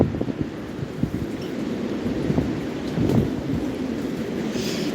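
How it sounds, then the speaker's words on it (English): Strong wind batters an outdoor microphone in a steady broadband rush with repeated gusts and buffeting thumps, loud and close throughout with no voices. "it's mad windy out here"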